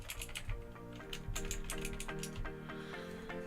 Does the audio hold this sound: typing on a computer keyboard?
yes